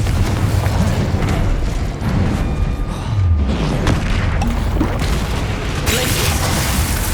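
Confringo blasting spells going off in the Hogwarts Legacy video game, a dense run of loud, booming bursts and crackling impacts close up, with a voice shouting spell names amid the blasts.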